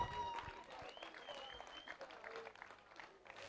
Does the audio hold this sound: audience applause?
yes